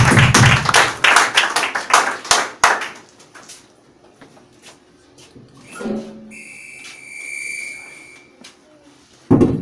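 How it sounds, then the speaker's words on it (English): A church congregation at a praise and worship service claps for the Lord, a burst of close sharp claps that thins out into scattered taps, followed by quieter room noise and brief tonal sounds. "Let us clap for the Lord."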